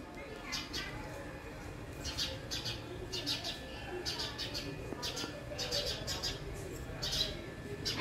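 Birds flutter and chirp in a tree during a morning outdoors, bursts of bright chirping repeating over a steady low background hum, moderately distant.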